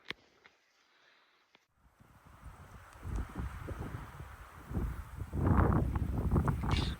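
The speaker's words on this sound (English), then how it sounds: "the wind is blowing" Wind gusts across an Alaskan mountainside on Kodiak Island, starting after a near-silent opening and building into steady, rough buffeting and rustling close to the microphone, strongest toward the end.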